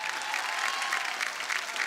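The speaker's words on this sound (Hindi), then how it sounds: "जोरदार तालियां" Loud, sustained applause from a studio audience at a team game show event, dense clapping filling the whole stretch without pause.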